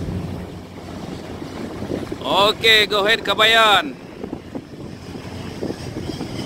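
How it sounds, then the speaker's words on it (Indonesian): Strong wind roars across an open deck at sea as a dipper dredger is towed by a multicat vessel, a constant gusty rush with someone speaking briefly over it midway. "Alhamdulillah guys, angin banyak"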